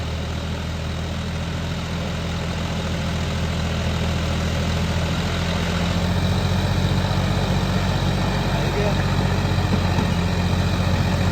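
A heavy John Deere tractor engine idles nearby with a deep, continuous throbbing rumble that grows slightly louder partway through.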